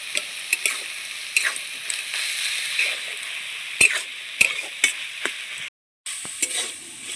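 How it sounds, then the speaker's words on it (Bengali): A spatula stirs drumstick flowers with crushed fried lentil dumplings in a hot pan, giving a steady close sizzle broken by sharp scraping clicks and taps, with a brief silent gap near the end. "ঘেটে একটু ভালো করে মাখো মাখো করে নিতে হবে"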